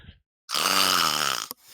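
A person in a tabletop fantasy game imitates loud snoring, one long drawn-out snore that stands alone after a short pause, ending in a brief snort.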